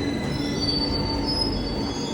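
Metal wheels of an old tube train squeal loudly and continuously as it pulls into a quiet underground station, a sustained high screech over a rumbling rolling roar, with no talking.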